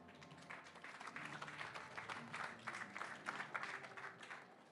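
An audience at a talk on cybersecurity for business founders welcomes invited experts with a burst of applause, a soft but dense patter of clapping that swells and carries on for several seconds.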